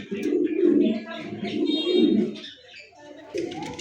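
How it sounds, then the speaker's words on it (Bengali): A single red-eyed, red-beaked pigeon at a breeder's farm gives repeated low, rolling coos, close and fairly loud, in pulsing bursts with a short pause before the last phrase. "দর্শক এই মুহূর্তে সিঙ্গেল একটা কবুতর দেখতেছেন"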